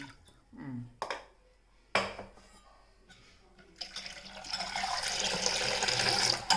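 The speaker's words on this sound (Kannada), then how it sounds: "ಬೇಕಾದಷ್ಟು ನೀರನ್ನು ಸೇರಿಸುವ." Water is poured into masala buttermilk, starting with a few knocks and splashes, then a rising, steady gushing stream close by.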